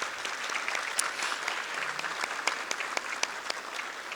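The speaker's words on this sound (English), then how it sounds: "So just a quick round of applause." Quick round of audience applause at an awards evening acceptance speech, a steady patter of many hands with a few sharper individual claps standing out, moderately distant.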